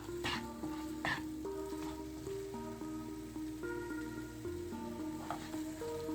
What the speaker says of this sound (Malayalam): ഇനി നമുക്കിതിലേക്ക് ശകലം തേങ്ങാപ്പാൽ ഒഴിച്ചു കൊടുക്കാം.